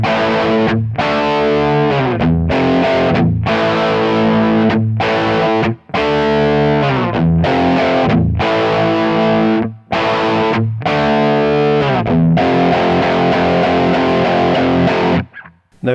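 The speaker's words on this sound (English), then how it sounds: "the chorus, just a simple series of power chords" Distorted electric guitar chugs through a simple series of power chords from the chorus of a 1980 song, loud and steady in rhythmic bursts with a few brief gaps between phrases.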